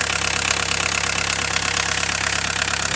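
A car engine idling steadily at its first start after a major overhaul, with a diesel injection pump, giving a loud, close, even rhythmic knocking hum that holds constant throughout with no voices.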